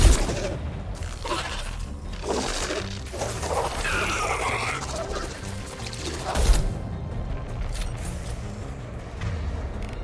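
Heavy weapon fire in Mass Effect 2 erupts as a loud, dense barrage of crashing blasts and debris, with a strong impact partway through before fading to a rumbling wash.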